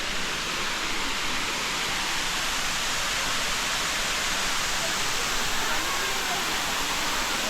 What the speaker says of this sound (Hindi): ये उससे बड़ा वाटरफॉल है।